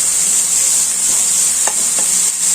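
Carrot and beans thoran fries in a pan with a steady loud sizzle, while a few soft scrapes of stirring come through close up.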